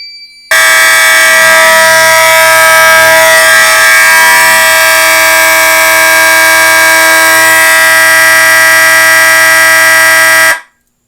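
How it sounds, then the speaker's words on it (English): A loud, continuous old mechanical alarm horn blares for about ten seconds without a break during a fire alarm system test, then cuts off abruptly. "Definitely fits this old mechanical horn too."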